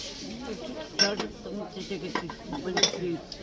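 Pieces of an unmarked vintage coffee set, with a teapot, sugar bowl and cups on saucers, clink and rattle against each other at a flea market, with sharp porcelain chinks over murmured voices.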